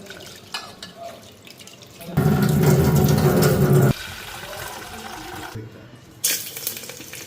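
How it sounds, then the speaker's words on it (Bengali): Lentils are rinsed under a kitchen tap, a loud steady stream of running water for about two seconds, then quieter sloshing and dripping with a few clatters near the end. "ডালটা ভালো করে ধুয়ে নিই।"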